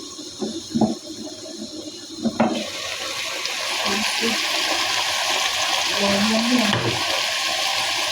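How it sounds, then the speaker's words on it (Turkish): Tap water pouring into a cooking pot, a few brief knocks and splashes at first, then a steady rushing fill that continues to the end, fairly close. "Azıcık bir şöyle su doldum"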